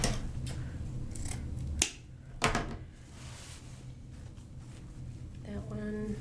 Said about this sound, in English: So these two were already cut, but I think I'm going to cut them a little shorter.